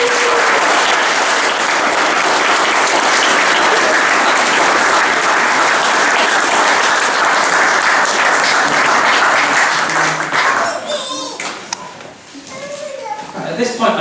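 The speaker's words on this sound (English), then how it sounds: "I think that probably deserves a round of applause." Applause at a wedding ceremony, sustained loud clapping from the guests that fades out toward the end, followed by scattered voices and small noises.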